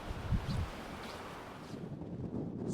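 Wind buffets the microphone on an exposed hillside in soft low gusts, with a couple of brief thumps near the start and a faint, steady rush afterward.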